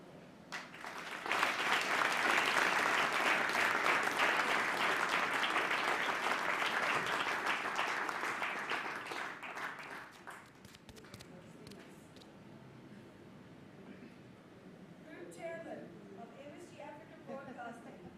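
A conference audience applauds guests honoured at a chairman's conversation event with a guest, a loud sustained burst of clapping that fades after about ten seconds, leaving quieter room noise and faint voices.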